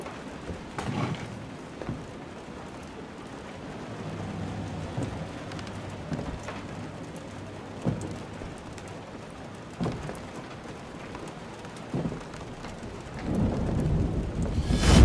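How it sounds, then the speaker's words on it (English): A thunderstorm in the video game Detroit Become Human: steady rain patters throughout, broken by several sharp thunder cracks and low rumbles, and a heavier roll of thunder swells at the end. "We had a flash of lightning with a delayed thunder reaction."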